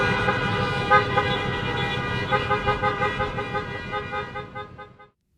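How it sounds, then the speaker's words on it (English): Many car horns honk together outdoors at a drive-in college graduation ceremony, a dense, sustained chorus of overlapping toots with rhythmic pulses that fades out near the end. "I ask that you honk your horn in recognition"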